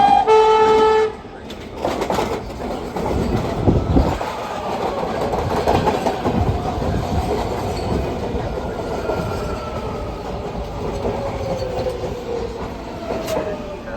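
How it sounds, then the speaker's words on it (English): MARTA northbound train pulling into West End station, a horn blast at the start followed by a long rumbling, squealing arrival with rolling wheel noise; a voice is heard partway through. "A northbound."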